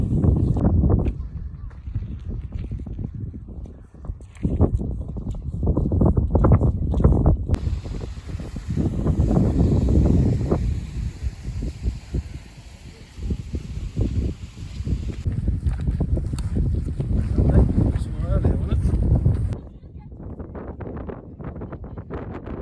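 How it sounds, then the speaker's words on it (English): Strong gusting wind buffets the microphone on a rainy, cloudy mountain hike in the Brecon Beacons, roaring loudly and steadily through the whole stretch with brief lulls, and no voice is heard. "It's very windy and the clouds have come right in."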